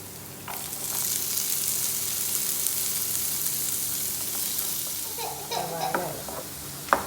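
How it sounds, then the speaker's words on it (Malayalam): Sliced onions frying in a pan, a steady close hiss of oil that runs throughout, with a cluster of scraping and clattering stirs near the end and one sharp knock. "സവാള ഇടണം"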